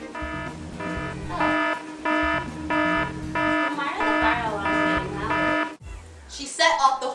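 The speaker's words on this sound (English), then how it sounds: "You set off the alarm in the whole building." A building fire alarm blares in loud, regular pulsing buzzer bursts, repeating steadily before cutting off, with voices talking over it near the end.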